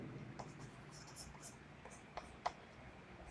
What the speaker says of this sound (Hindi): यहाँ पर अमित है, अमित लिखेंगे